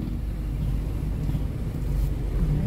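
A motorcycle travels on the road, a steady low engine rumble with wind noise running continuously throughout, fairly loud and close with no voices over it.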